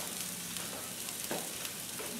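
A flipped beef pot roast sears in a hot pan, giving a dense, continuous close sizzle with faint crackles and no talking.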